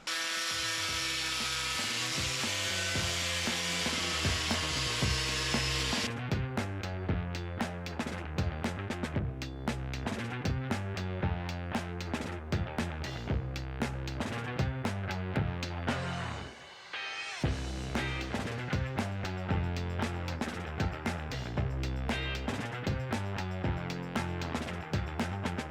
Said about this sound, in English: I'm gonna see if the grinder does better.